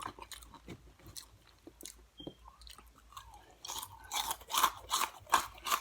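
Close-up chewing of Flamin' Hot chipotle ranch Cheetos eaten mukbang style: repeated crisp crunches, sparse at first, then louder and faster toward the end, with no talking.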